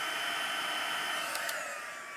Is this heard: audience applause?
no